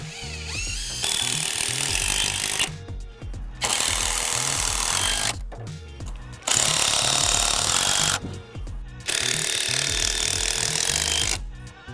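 Power tool cutting into wooden beams during the assembly of a timber garden pool house, several loud bursts of cutting separated by brief pauses.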